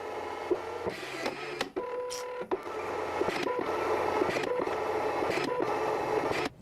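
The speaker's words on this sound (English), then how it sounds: "we're gonna go ahead and print consecutive 5 different pages now" An HPRT FT800 portable thermal printer printing consecutive pages, giving a steady close mechanical whir with repeated clicks and brief tonal beeps, punctuated by sharp cutting and feed sounds.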